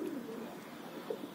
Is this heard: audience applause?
no